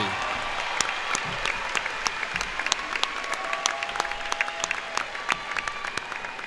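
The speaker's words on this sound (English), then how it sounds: "Please join me in applauding the top 10 graduating seniors for Raytown Senior High School, class of 2023" Audience at a high school graduation ceremony applauds the top ten graduating seniors, sustained clapping from a large hall with sharp individual claps standing out near the mic and faint whistles or cheers mixed in.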